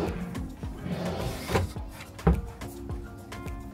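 A drawer in a hotel apartment room slides open and shut, with several short scraping slides and two sharper bumps, near and moderately loud, with no talking.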